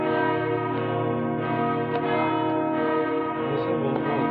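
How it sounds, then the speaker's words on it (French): Church bells peal continuously on a festival day, rich sustained ringing with overlapping strikes filling the whole stretch, loud and close, with no talking over them. "Nous avons droit aux cloches."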